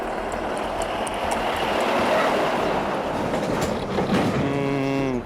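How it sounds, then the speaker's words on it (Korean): Heavy construction trucks rumble and rattle past on a village road in the countryside, a loud, continuous roar of passing vehicles close by, with a horn-like tone near the end. "새만금 공사 현장에서 약 1km 떨어져 있어 하루에만 수백 대의 트럭이 오갑니다."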